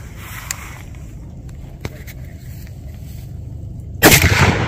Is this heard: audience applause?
no